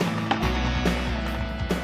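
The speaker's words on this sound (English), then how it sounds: "Just a little more sawing and he's almost there." A chainsaw drones steadily at close range, cutting continuously through a tree trunk with slight rises in pitch, loud and without voices.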